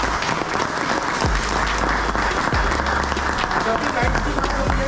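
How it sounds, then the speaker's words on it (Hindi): A crowd applauds loudly and steadily throughout, with a voice speaking over the clapping. "एक बार इनके तालियां।"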